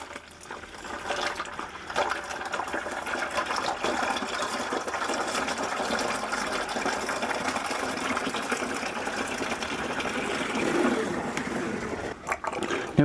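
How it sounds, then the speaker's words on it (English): Diluted fruit wine kit concentrate pours into a fermenter, a continuous close liquid splashing and gurgling that holds steady for several seconds with no talk. "This will now go into my fermenter just as it is."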